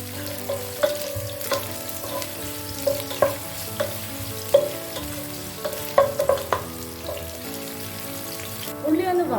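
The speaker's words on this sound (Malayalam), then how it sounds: "ഗീ ഒന്ന് ചൂടായി വരുമ്പോൾ ഉള്ളി സ്ലൈസായി കട്ട് ചെയ്തത് ഇട്ട് നമുക്കൊന്ന് വാട്ടിയെടുക്കാം." Sliced onions sizzle and fry in hot ghee in a pan as the base for Kerala-style ghee rice. A steady crackle runs underneath, and repeated scraping clinks from the stirring utensil punctuate it at close range.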